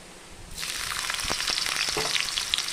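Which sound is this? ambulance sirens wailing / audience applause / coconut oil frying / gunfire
coconut oil frying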